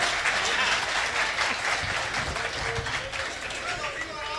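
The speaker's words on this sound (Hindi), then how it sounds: "एक बार अपने लिए भी जोरदार तालियां बजाइएगा।" Audience applause at a Hindi comic poetry reading, a steady wash of clapping from the listeners lasting several seconds, with some voices mixed in.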